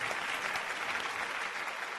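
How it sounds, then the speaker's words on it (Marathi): A studio audience at a Marathi music competition show claps steadily in dense, even applause for a tribute to comedian Dada Kondke, with no voices over it. "जोरदार टाळ्या झाल्या पाहिजेत"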